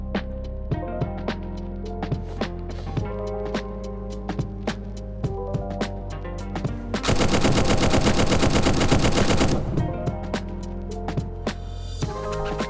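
A SCAR rifle fires on full auto in the tactical shooter Zero Hour: Operation Black Dawn: first a rhythmic string of separate sharp shots, then a fast, dense, sustained burst for a few seconds, and then single shots again, loud and with no voices.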